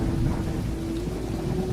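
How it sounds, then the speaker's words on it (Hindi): Steady heavy rain hisses throughout with a low rumble of thunder underneath, continuous and enveloping with no voices. "बाहर मूसलाधार बारिश हो रही है और भयंकर बिजली कड़क रही है।"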